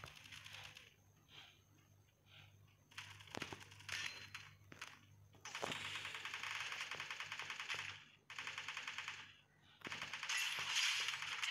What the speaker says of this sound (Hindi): एकदम तगड़े वाला हेडशॉट मारा मैंने इसको